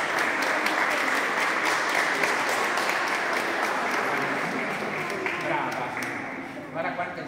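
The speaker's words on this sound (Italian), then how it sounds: "facciamo un applauso a Luce" A congregation in church applauds a baby after her baptism, dense sustained clapping from many people that slowly fades toward the end, with voices murmuring underneath.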